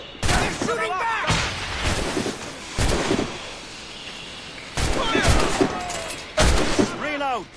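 Gunfire volleys in the video game Assassin's Creed Rogue, several heavy bursts of musket fire spaced apart, loud and close, with shouting voices and a whooshing background between shots.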